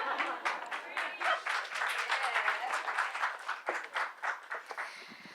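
Audience applause at a talk on accents, a dense patter of many hands clapping at moderate level, swelling and then thinning toward the end with some scattered voices mixed in.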